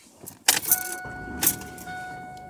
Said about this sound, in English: I'm turning my car on right now.